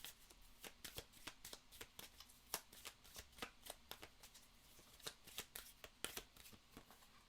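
Oracle cards from the Seed and Sickle deck being shuffled by hand: a steady run of crisp, papery riffles and snaps, close and fairly quiet, with no voices.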